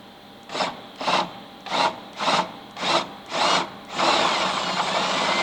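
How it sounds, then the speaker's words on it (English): A power drill with a 5/16 bit drills a hole in a Jeep front fender area in six short bursts with brief pauses between, then runs steadily at the end, close and fairly loud. "drill out this hole right here with a 5/16 drill bit"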